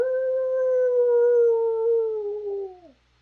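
A person imitates a wolf howl with one long, loud, steady vocal note that slowly sags in pitch before breaking off at the end, heard alone and close.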